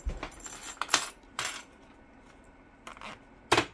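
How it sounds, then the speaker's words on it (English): Rainbow metal zipper pulls are grabbed by hand and jangle in a few short bright clinking bursts, close and fairly loud, separated by quiet pauses. "Let me grab my zipper pulls."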